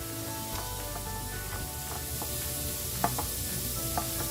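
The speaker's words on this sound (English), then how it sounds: "Give it a good stir. It's on low heat so the cheese just about melts." Eggs with peppers and shredded cheese cook in a pan over low heat, a gentle continuous sizzle broken by a few scraping stirs and light taps of the utensil, no talking.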